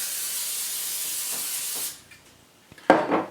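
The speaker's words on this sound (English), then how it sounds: "So I grab me some pan, spray the pan with it." Cooking spray sprayed onto a frying pan, a loud steady hiss lasting almost two seconds that cuts off, followed by a few light clatters and a brief rustle.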